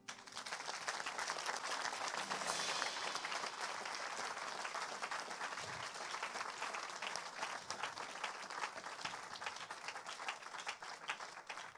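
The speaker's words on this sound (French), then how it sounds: "On acclame Jésus." A church congregation applauding and acclaiming Jesus, with dense, sustained clapping from a large crowd filling the room evenly for about twelve seconds.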